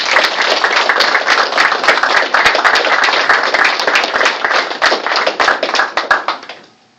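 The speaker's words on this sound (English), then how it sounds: "Please, a nice round of applause for Leo Thalassides" A crowd applauds an inductee at a Florida boxing Hall of Fame ceremony, with loud, close, dense clapping that holds steady for about six seconds and then quickly dies away.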